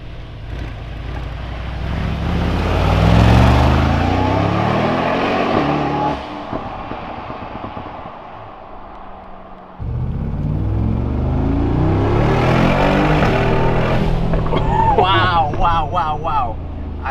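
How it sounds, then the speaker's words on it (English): Turbocharged car accelerating hard from inside the cabin, loud engine roar with rising whine and whooshing turbo noise in two surges, broken by a quieter dip, with excited voices talking over it. "do you hear those turbos?"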